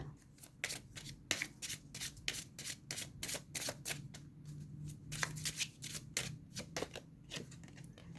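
Tarot cards are shuffled by hand in quick, rhythmic riffling bursts, a steady series of crisp papery flutters repeating throughout, close and fairly quiet with no voice.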